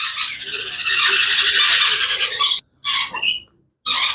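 Two young sun conure parrots give loud, harsh, grating squawks up close, one long sustained burst followed by shorter calls with brief silences between.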